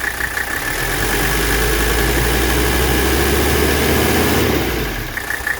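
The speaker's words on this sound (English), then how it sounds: "Extremely healthy engine," The diesel engine of a 1984 Mercedes 300TD idles steadily at close range, a low, even rumble with a faint rhythmic clatter that holds throughout before easing slightly near the end.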